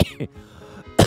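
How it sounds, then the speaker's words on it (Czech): Short bursts of coughing from a man with a cold, one cough at the start, a smaller one just after, then a loud burst at the end, close and dry with quiet between. "Mám kašel"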